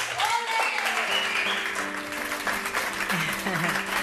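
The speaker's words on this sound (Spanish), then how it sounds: "el mejor aplauso, al menos hoy, es el de sus alumnos" Students applaud a teacher who writes about rural life: steady, dense applause from a crowd that holds for about four seconds, with faint voices mixed in.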